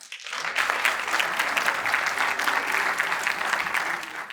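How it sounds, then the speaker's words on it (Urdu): An audience at an Urdu poetry mushaira in Dubai breaks into dense, sustained applause that rises sharply and holds loud and even, with no speech on top. "آپ سب کی بھرپور تالیوں میں جناب ملک محمد عرفان."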